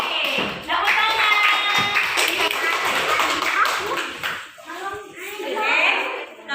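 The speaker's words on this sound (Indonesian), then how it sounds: "Tepuk tangan." A group of children clapping in a rhythmic pattern while young voices chant and call out along with it, loud and close.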